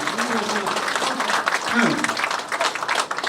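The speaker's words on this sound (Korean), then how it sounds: "박수 치고 확실하게 치세요." Applause from guests at the opening of an election campaign office, a steady bed of clapping with voices talking over it.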